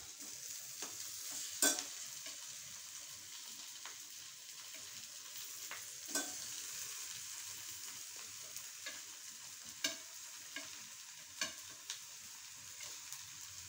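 Mashed potato and grated coconut being stirred in a pan, heard as soft scraping strokes with a few sharper spoon knocks against the pan over a faint, steady background hiss.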